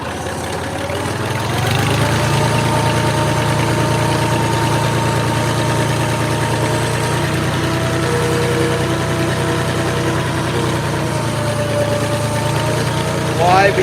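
A tractor engine chugs steadily as the tractor rolls down a slope, a continuous low mechanical drone with a faint rhythmic thrum, close and even throughout.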